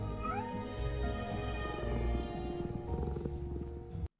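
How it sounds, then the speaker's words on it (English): A cat meows in an episode of the animated series Batman: Caped Crusader, heard as a few short, clear meows at the start over a dense, loud orchestral score that fills the whole stretch. "I want to say aw, but it's a cat."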